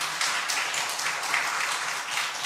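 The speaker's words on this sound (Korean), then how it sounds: "박수 다시 한번 치겠습니다. 시작." A church congregation applauding together during an early-morning worship service, a dense even wash of many hands clapping at once that holds steady throughout, with no voices over it.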